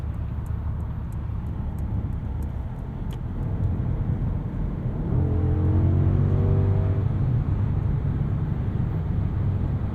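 Engine note of a 2021 Mercedes-Benz S580 4MATIC, its 4-liter biturbo V8 in Sport Plus with a nine-speed automatic, heard from inside the cabin. A muted hum swells midway into a louder rising growl under acceleration.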